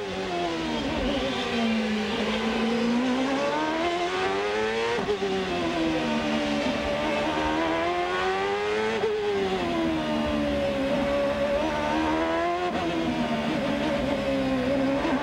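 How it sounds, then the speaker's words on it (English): A Honda-powered CART race car at the 1999 Long Beach street race brakes hard and downshifts to second through its sequential gearbox, the close onboard engine note rising and falling steadily with sharp pitch breaks at each gear change. "Hard on the brakes, all the way down to second in that sequential box."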